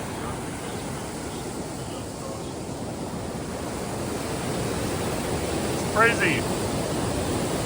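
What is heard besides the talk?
waterfall with heavy flow after rain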